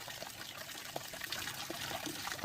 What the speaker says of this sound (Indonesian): Pancuran, sobat.